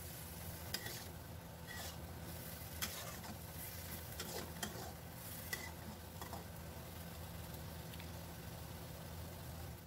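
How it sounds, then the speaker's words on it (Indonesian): Seasoning, mushroom stock and oyster sauce are stirred together in a pan over a small flame. A steady sizzling hiss runs under scattered scraping clinks of the spoon against the pan, and nobody speaks. "Ini kita aduk-aduk kembali sampai tercampur rata."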